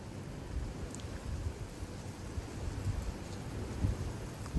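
Steady outdoor rain and a low, rumbling wash of thunderstorm noise from the outer bands of a severe storm in Frisco, Texas, with 35 mph wind gusts; the dense broadband roar holds even throughout, with no voices.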